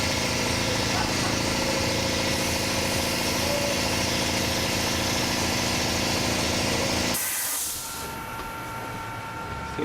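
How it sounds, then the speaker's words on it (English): A workshop air compressor runs loud and steady with a broad hiss and low droning hum, then cuts off abruptly near the end, leaving quieter room tone. "Fucking air compressor"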